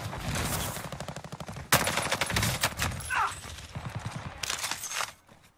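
An MP40 submachine gun fires in Warzone, rapid rattling bursts of close, loud automatic fire repeating across the clip with brief gaps between volleys.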